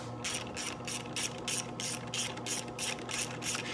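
Ratchet clicking steadily while snugging clutch bolts on a 1985 Harley FXRS Evo, a quick regular run of close mechanical pawl clicks in even bursts with no voices.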